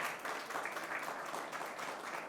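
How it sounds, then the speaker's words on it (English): Audience applause for a panel at a climate action event, a steady wash of clapping from a moderate-sized crowd, fairly soft and distant, sustained without break. "Can we have another round of applause for our fantastic panel?"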